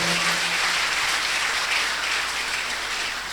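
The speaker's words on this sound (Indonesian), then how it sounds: "Beri tepuk tangan yang meriah bagi Tuhan." Church congregation at a sermon breaking into loud, sustained applause, a dense steady patter of many hands clapping continuously throughout, with no talk over it.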